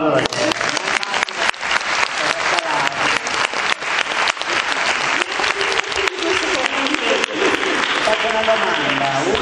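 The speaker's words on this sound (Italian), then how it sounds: "Facciamo un applauso." Loud audience applause in a theatre during a forum-theatre session, dense rapid clapping from many hands sustained for several seconds, with voices murmuring underneath.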